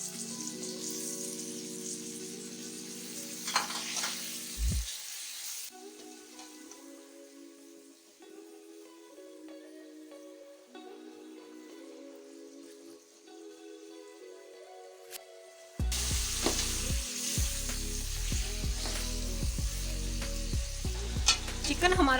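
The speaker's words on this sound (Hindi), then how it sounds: "चिकन हमारा अच्छे तरीके से भुन चुका है।" Chicken frying with tomatoes in a pot for chicken pulao, a dense crackling sizzle heard alongside background music, louder and harsher near the end, with no talk.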